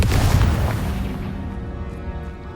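In the Hogwarts Legacy video game, a Confringo spell goes off as a loud, close explosive boom with a heavy low rumble that slowly fades away.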